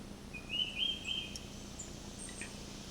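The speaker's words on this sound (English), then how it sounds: "But hear the birds and the dry flies." Faint birdsong outdoors, a few thin high chirps and a short trill over steady low background hum, with no voices.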